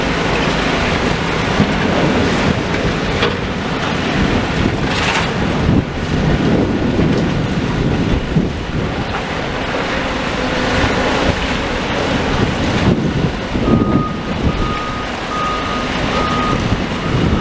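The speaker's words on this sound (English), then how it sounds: "They are really crunching up this rubble" A demolition machine rumbles and grinds continuously, crunching up building rubble amid water spray, with wind buffeting the microphone and a faint intermittent reversing beep.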